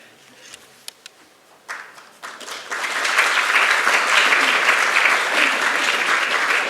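Audience at a university graduation ceremony applauding: a few scattered claps at first, then clapping builds to full, sustained applause from a large crowd.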